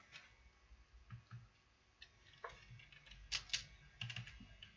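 Command-line typing on a computer keyboard while setting up Kubuntu on a Raspberry Pi 4: soft, irregular key taps and clicks at close range, a few sharper strikes toward the end, with no talk.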